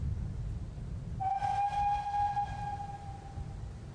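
A steam train whistle in the video game The 39 Steps gives one sustained, steady tone over a low rumbling background, fairly distant and fading slowly, with no talk.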